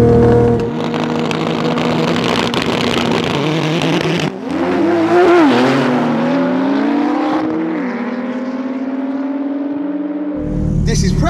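Nissan GT-R and 700 hp Porsche 911 Turbo all-wheel-drive cars at a drag race, engines revving hard and accelerating with rising and falling pitch, a brief tyre squeal, then a renewed loud rev at the end.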